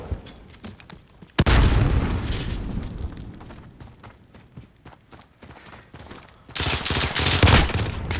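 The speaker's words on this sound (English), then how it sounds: "I hit him with my fucking grenade!" A grenade explodes in the Call of Duty: Modern Warfare video game, a sudden loud boom with a long rumbling tail, followed by another heavy roaring blast amid gunfire-like noise.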